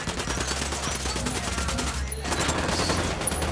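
Dense automatic gunfire from the Ghost Recon Wildlands video game, a continuous loud fusillade of overlapping shots that briefly drops out before resuming at full intensity.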